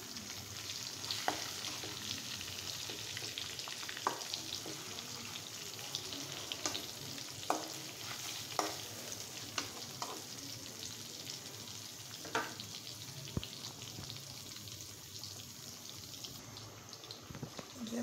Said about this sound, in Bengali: যে মাছগুলি কি সুন্দর ফ্রাই হয়ে গেছে। আমি আরেকবার উল্টিয়ে দিচ্ছি।